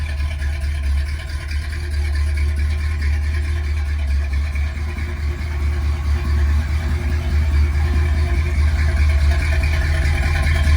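The V8 engine of a 1978 Ford F100 pickup truck idles steadily nearby with a deep, even rumble and low throb, no voices, holding constant throughout.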